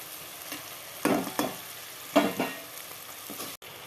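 Peas and mixed vegetables frying in a pan with garam masala, paneer masala, turmeric, chili powder and salt, giving a soft steady sizzle broken by a few brief stirring scrapes, close and quiet.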